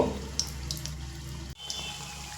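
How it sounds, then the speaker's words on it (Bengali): Flour dough snacks frying in hot oil, a steady soft sizzle and bubbling held close throughout, with a brief dip near the middle before the crackle resumes. "প্রথমে আমি তিনটে দেব পরের ব্যাজে বেশি করে ভেজে নেব"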